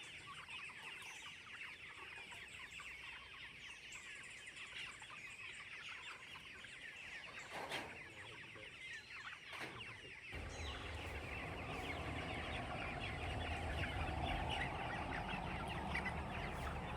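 Chickens on a homestead cluck softly in the evening, a faint, distant, continuous murmur of farmyard fowl that grows slightly louder toward the end.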